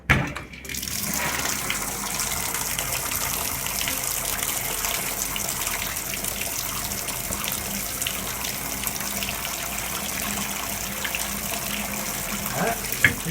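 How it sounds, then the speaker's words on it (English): Bathtub tap in a 1980s old house running after a drain stopper replacement, a steady loud gush of water filling the tub, beginning with a brief knock and continuing evenly close by. "let's open the water"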